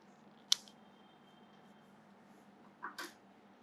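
A single crisp snip of cutters through floral wire for a fondant wedding cake, close and short, followed a few seconds later by a second pair of quieter clicks, with a low room hum underneath.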